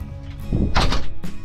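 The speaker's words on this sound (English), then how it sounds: "watertight door, so we can section the boat off in watertight compartments" A watertight door on a steel Van de Stadt expedition sailboat swings shut inside the hull, giving a heavy close metallic thunk with a short clatter and a second knock as it seats.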